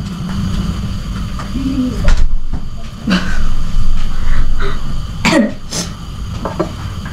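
A child coughs indoors, a few sharp hacking coughs spaced apart over a steady low background hum.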